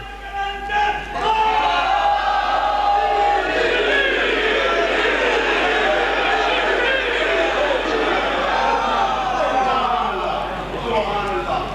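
A large audience at a religious gathering chants slogans and roars in unison, a loud and continuous mass of voices that swells and holds for several seconds, with the crowd noise filling the space.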